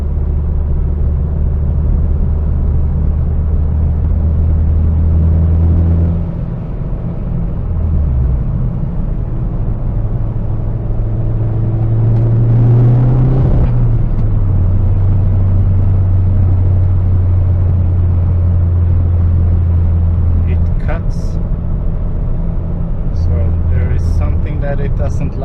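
SAAB 9-5 Aero engine fitted with an oversized 3.5-inch downpipe, a steady low droning rumble from inside the moving car with rising and falling revs throughout, someone talking over it.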